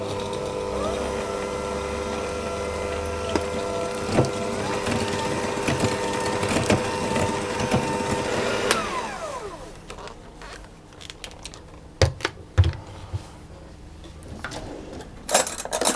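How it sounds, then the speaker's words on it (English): Electric mixer whisking egg mixture into creamed cheesecake batter, a steady mechanical whir for several seconds that cuts off and gives way to scattered clinks and scrapes of utensils against a bowl. "I'm going to slowly add in my egg mixture, whisking all the time."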